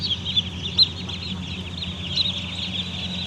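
Around 1100 young chicks in a Khorezm hatchery cheep in a dense, constant high chorus, steady and close, with no voices over it.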